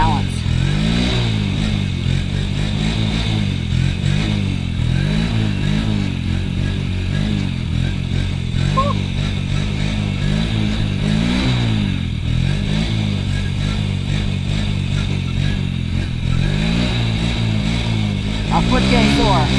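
An ATV engine revving hard through long wheelies, a steady loud buzzing drone with rhythmic rises and falls in pitch throughout, with a rider's voice speaking over it at times.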